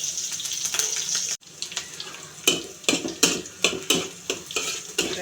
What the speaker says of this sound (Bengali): দিয়ে দিচ্ছি পেঁয়াজ কুচি, দিয়ে দিচ্ছি কাঁচামরিচ